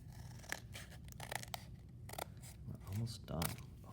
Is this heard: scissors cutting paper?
yes